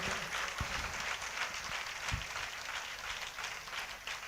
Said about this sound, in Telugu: అందరం చప్పట్లతో దేవుని కనపరుస్తామా?